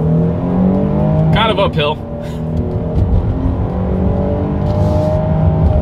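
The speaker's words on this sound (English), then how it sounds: "let's see how quickly this thing is going to get us here up to speed" Inside a 2021 Jeep Grand Cherokee L with a V6 in sport mode, the engine drones steadily as it accelerates uphill, with someone talking briefly over it.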